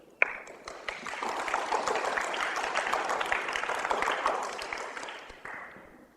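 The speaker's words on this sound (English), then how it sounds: "Let's give a big round of applause to our Form 1 participants." Applause from a school audience at a maths quiz, a dense patter of many hands clapping for several seconds before tapering off.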